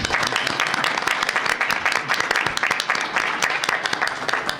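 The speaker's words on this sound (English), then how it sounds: "give a round of applause to these fine students" Audience applause at an Arab Student Union candidate forum for students, a dense, steady crowd clapping that fills the room without a break, with a few voices mixed in.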